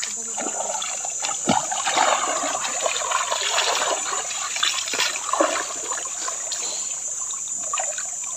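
Steady rushing and trickling of river water close by, with a constant high hiss and occasional splashes.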